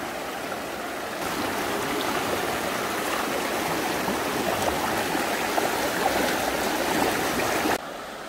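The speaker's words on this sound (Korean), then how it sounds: "물이 깊지는 않으나 건너오는데 물살이 세요." Fast-flowing shallow stream rushes continuously and close while someone wades across it in sandals after monsoon rains, a dense, steady watery roar with no voices.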